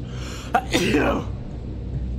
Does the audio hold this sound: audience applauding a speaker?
no